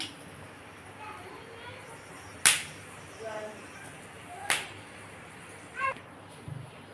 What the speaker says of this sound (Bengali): আমি এর মধ্যে একটু শুকনো লঙ্কা ফোড়ন দিয়ে দিলাম